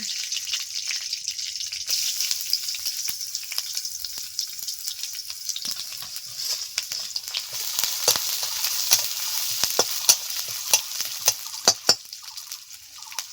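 Curry leaf, onion, garlic and chopped ginger fry in hot oil with a steady sizzle. Sharp spatula scrapes and clacks against the pan come irregularly and grow louder toward the end.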